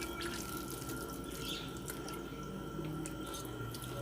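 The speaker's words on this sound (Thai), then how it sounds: "น้ำส้มสายชูเขาก็ใส่แบบนี้จ้ะ ใส่ลงไปเลย" Vinegar poured into a pot while making crispy pork runs as a faint, continuous liquid trickle with small drips, quiet and close.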